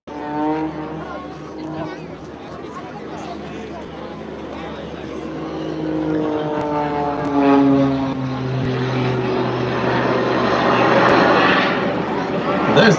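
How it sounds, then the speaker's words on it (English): Aircraft engine roar from jets flying at the Bray Air Display airshow, a broad sustained rumble that swells and pitches over the whole stretch, with a crowd and voices audible beneath it. "There's the sound of those jets."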